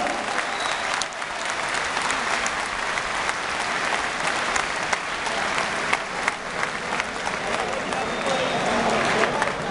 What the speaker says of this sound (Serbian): Molim vas još jedan aplauz za orkestru Dimitrovića.